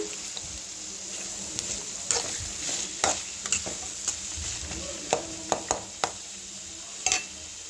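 Onions fry in a pan until golden for cumin (jeera) rice, a steady sizzle running throughout with intermittent scraping clicks as a spoon stirs them, close and moderately loud, no talking.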